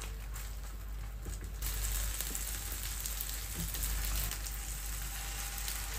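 Chicken leg pieces frying in oil on a tawa give a steady, dense sizzle and crackle at moderate loudness that runs unbroken throughout.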